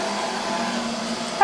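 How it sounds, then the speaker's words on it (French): A vacuum cleaner hums steadily nearby, a low droning whir that holds constant before a brief sharper sound at the end. "je laisse passer l'aspirateur"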